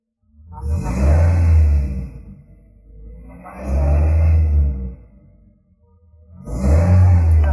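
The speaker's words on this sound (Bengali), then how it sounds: "আমি ইঞ্জিন একটু রেফ করি আপনারা নোটগুলো একটু শুনবেন" Engine of a new 2020 Toyota Hiace Super GL van revved three times in a row, each a loud, close rising roar lasting about a second and a half before easing back to a low idle.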